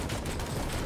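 A Type 81 rifle firing 7.62 mm rounds in Knives Out, a loud, dense burst of rapid automatic shots packed tightly together with no gaps.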